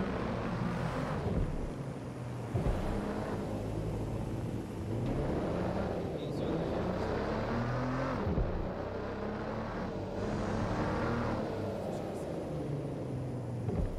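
A car drives in the video game Watch Dogs: Legion, its engine rising and falling with revving passes over roughly fourteen seconds, mixed with game ambience and at moderate level.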